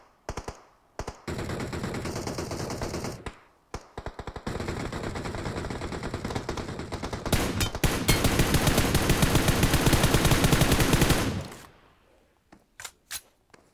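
Rapid automatic gunfire in a shooter video game rattles in long, loud sustained bursts, broken by short pauses and a few single shots at the end, with no voices over it.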